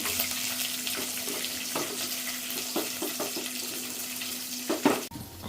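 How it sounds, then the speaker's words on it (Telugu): Roasted peanuts and carrot sizzle steadily in a pan of hot oil for upma, with intermittent stirring scrapes and a clatter near the end, up close and with no voices. "ఇప్పుడు శనగ పలుకులు వేసేస్తున్నాను. ఆ వెంటనే క్యారెట్ కూడా వేసేస్తున్నాను."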